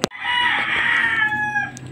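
A rooster named Wakwak crows loudly and close by, one long drawn-out call that trails off, after a brief knock at the start.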